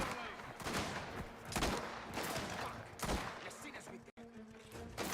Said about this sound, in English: Finally shooting.